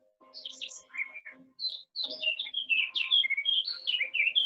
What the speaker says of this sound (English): As the birds are singing